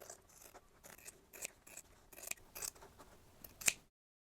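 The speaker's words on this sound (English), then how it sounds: "starting at one end, we can follow our chalk line and cut out our one long strip." Scissors snipping along a chalk line through a fabric strip cut from a sewn tube to make bias binding, a series of short crisp cuts close up, the last one loudest, ending in silence.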